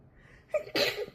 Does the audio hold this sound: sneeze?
yes